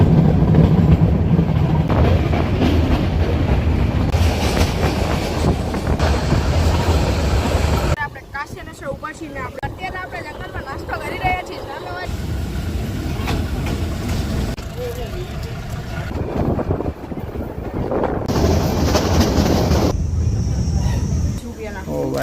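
A forest train running from Sasan to Junagadh through jungle gives a steady rumble of carriages and wheels on rail, loud and continuous, with people talking over it at times.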